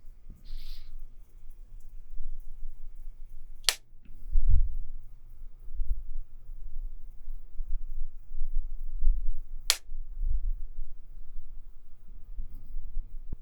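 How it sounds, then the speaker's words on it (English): Two sharp, isolated hand claps for an audio sync test ring out several seconds apart in an otherwise quiet room with a low background hum. "now I'm going to do the clap sync test again"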